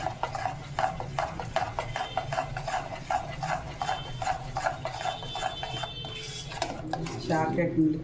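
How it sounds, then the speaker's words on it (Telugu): A spoon scrapes and clinks steadily around a pan as chocolate is stirred into thick milk, rapid rhythmic stirring over a low background hum, close by. "జాగ్రత్తగా కలుపుకుంటూ చాక్లెట్ అంతా కరిగించుకోండి"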